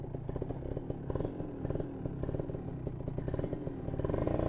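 A Kawasaki Ninja R Special Edition 2015 motorcycle engine with underbelly exhaust idles with a steady, throaty rapid pulse from the exhaust, close by and rough, swelling slightly toward the end.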